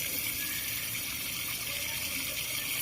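Water flows steadily from a tap-like outlet on a public fountain along the Quai du Rhône in Lyon, a continuous bright gushing and splashing that stays even throughout.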